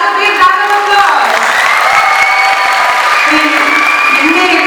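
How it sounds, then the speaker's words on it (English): An audience applauds and cheers after a robotic dance performance at an Ugadi celebration, a short burst of clapping blended with tonal music or voices. "Everyone please another big round of applause."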